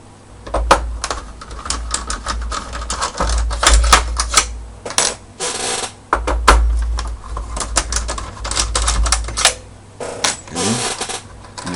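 Screws being backed out of an Xbox 360 Fat console case with a T10 Torx driver, long screws running through into the plastic casing, giving a string of close, sharp ticking clicks and rattles over nearly twelve seconds.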